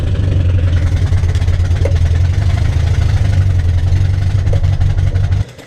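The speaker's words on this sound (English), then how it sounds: "Running like garbage, but it's starting." Carbureted engine just after starting, running roughly with a loud, uneven idle that throbs and stumbles for several seconds before cutting off abruptly near the end.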